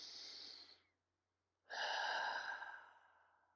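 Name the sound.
deep breath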